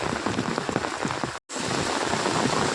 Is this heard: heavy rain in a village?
yes